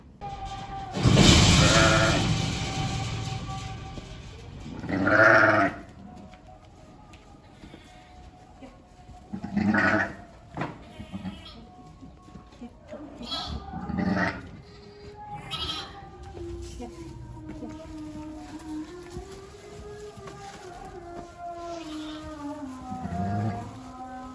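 Sheep and newborn lambs bleat in a livestock pen during lambing season, loud close cries recurring every few seconds, with thinner, wavering lamb calls drawn out near the end.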